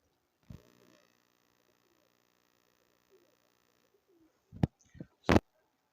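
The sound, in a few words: female pigeon cooing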